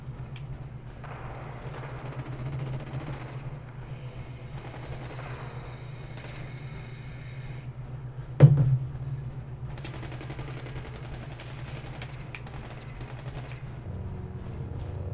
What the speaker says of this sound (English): Who's shooting at me? Somebody's popping shots.